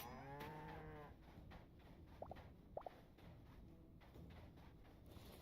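An undead cow in the Hytale video game moos in a few low, drawn-out calls, fairly faint beneath ominous game music and ambient noise, with a couple of short squeaky chirps in the middle.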